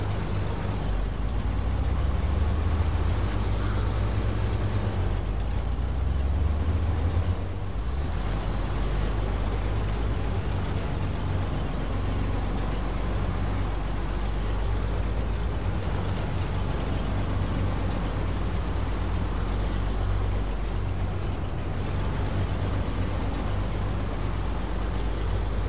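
A truck in the SnowRunner driving game, a low steady engine rumble that holds near-constant loudness as the vehicle crawls along, with faint mechanical creaks and no talking.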